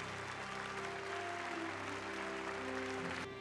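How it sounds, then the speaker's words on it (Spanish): Applause from attendees at a Peruvian government ceremony honoring women leaders, a steady even wash of clapping heard at moderate distance over a constant hum. "Fuertes palmas para todas ellas."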